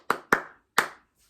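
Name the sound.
hand clapping a rhythm pattern back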